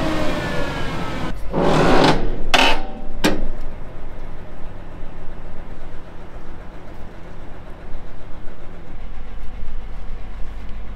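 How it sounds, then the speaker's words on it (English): Fans and an auger on Western Australian seeding equipment run with a continuous, loud mechanical roar. A few sharp clattering bursts come early, then a steady rumbling drone continues, with no voices. "Henry's about to fire the fans up, and then I'll control the auger, and we'll see that if the auger's gonna work."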